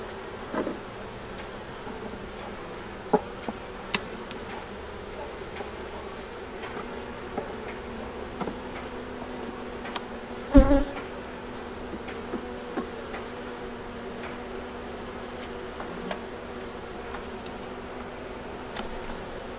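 Honeybees drone in a steady, close hum around an open hive holding brood and larvae, with faint clicks and occasional soft knocks rising over the continuous buzzing and no talk.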